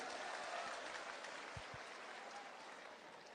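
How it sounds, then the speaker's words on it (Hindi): Audience applause at a youth dialogue event, faint, dense clapping heard from a distance that fades slightly over a few seconds. "जोरदार ताली बजाओ इनके लिए भी।"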